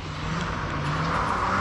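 A car drifting at a drift event, heard as a steady, loud engine roar that swells slightly toward the end, with no clear tyre screech standing out.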